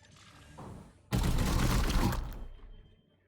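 A single loud, drawn-out burst of weapon fire from a Warhammer 40k Chaos Gate battle erupts after a quiet second, rumbling and rattling for about a second before fading out.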